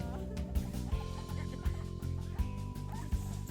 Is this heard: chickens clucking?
yes